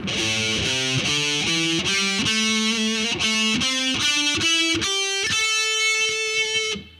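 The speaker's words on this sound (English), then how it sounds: "So this makes a pretty cool 2-octave scale if you played it like this." Distorted electric guitar in a heavy metal style runs a two-octave scale, about fifteen evenly picked notes stepping steadily upward, loud and close with no talking, ending on a sustained top note.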